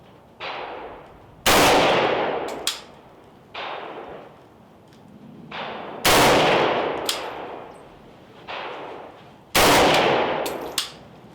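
Rifle shots fired from an AK-pattern rifle while shooting a five-shot group, several sharp loud cracks spaced a few seconds apart, each with a ringing metallic tail and a faint clank after some, close and outdoors with no talking.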